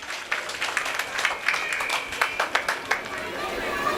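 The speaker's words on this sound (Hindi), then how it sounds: "जोरदार तालियां डॉक्टर सुनील जी के लिए।" Applause breaks out for Dr. Sunil after a correct quiz answer at an Ambedkar Remembrance Celebration, with sharp irregular claps over a lively crowd murmur that holds steady throughout.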